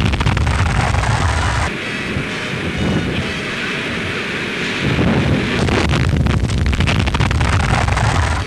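Strong wind at sea aboard a fast-moving warship, a steady loud rushing and buffeting roar against the microphone with a few heavier thuds mixed in.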